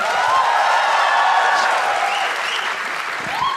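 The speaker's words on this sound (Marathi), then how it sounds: "निकसाठी पुन्हा एकदा टाळ्या वाजवा सगळे" Audience at a stand-up comedy show applauding, a dense, loud, sustained wash of clapping from a large crowd, steady throughout with faint cheers mixed in.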